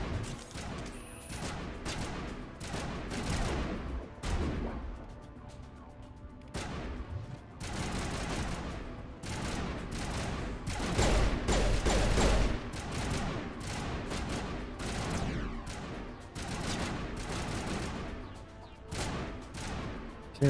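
Dense gunfire from pistols and other weapons in the video game Mass Effect Legendary Edition, rapid overlapping shots and bursts sustained throughout, loud and busy with occasional heavier booms.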